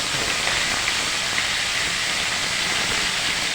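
Ginger and cumin paste stirred in hot oil gives off a steady, bright sizzling hiss at close range, even and unbroken throughout, with no voices.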